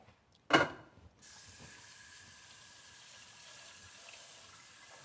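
Water runs from a kitchen tap while cooking, opening with a brief loud splash before settling into a steady, moderate hissing stream that continues to the end.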